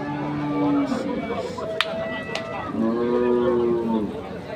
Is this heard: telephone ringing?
no